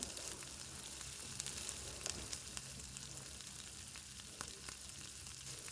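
Okra cooks covered in a pan over a medium flame, giving a steady soft sizzle with faint crackles and pops throughout, close and even, with no talk.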